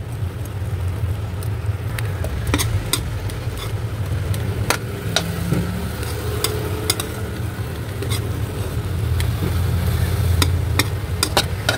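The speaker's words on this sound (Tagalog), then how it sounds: "Pasensya na po dun sa sandok ko po guys kung maingay, kasi ito pong sandok na metal" A metal ladle scrapes and stirs onions in a frying pan for a pork chop recipe, giving repeated sharp, close metallic clacks over a constant low rumbling background hiss, with no talking.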